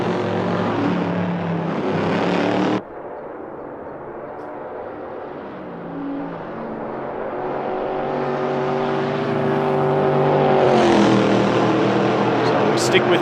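A Corvette race car on a flying lap in a sim racing game, its engine a steady droning whine that rises in pitch through a gear, heard under continuous commentary.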